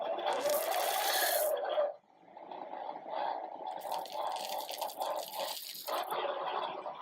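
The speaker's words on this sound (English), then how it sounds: "We collected a dataset of audio recordings of the robot pouring" A robot's scoop pours granular material, picked up by a contact microphone on the scoop: a steady, close rushing hiss that breaks off briefly near the two-second mark, then resumes with a rougher, grainier texture.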